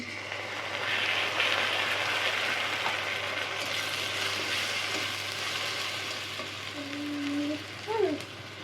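Steady, dense sizzling of onion, browned until golden, frying in a pan with ginger, garlic and spices, continuous and close, with a couple of brief scraping stirs near the end.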